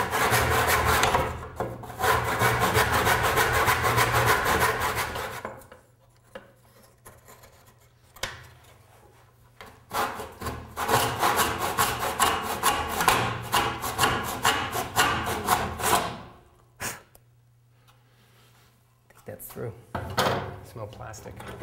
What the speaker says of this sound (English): Miter box, miter saw, and just always double check that you got the right line